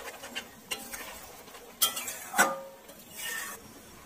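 Fried onions (beresta) going into an egg korma, with a few utensil clinks and scraping stirs against a pot, alone and fairly quiet with soft sizzling underneath.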